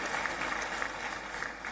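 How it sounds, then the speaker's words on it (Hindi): Audience clapping at a regional industry conclave, a short burst of dense, steady applause from a crowd heard at moderate distance. "जरा ताली वाली भिजवा दो सबके लिए।"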